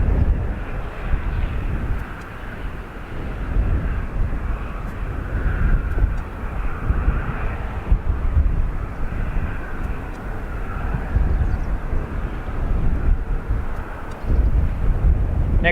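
An Airbus A321 airliner takes off from Dublin Airport bound for London Heathrow, a loud sustained jet engine roar heard from outside with some wind buffeting the microphone, steady throughout.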